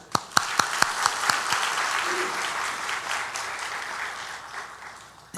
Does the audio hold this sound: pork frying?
no